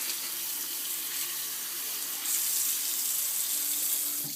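Steady water pouring from a tap over hands being rinsed at a sink after scrubbing, a continuous hissing splash that swells slightly partway through, close and alone.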